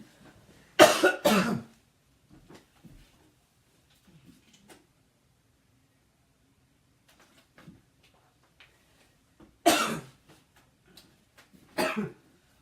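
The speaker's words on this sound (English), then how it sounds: "I started coughing. I had to step away." A person coughs in short harsh bursts, one fit near the start and two more near the end, close and alone in an otherwise quiet room.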